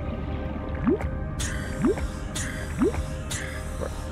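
Repeated wet gulping swallows from drinking water in the underwater survival game Subnautica, roughly one per second, close and moderately loud over a steady ambient game bed.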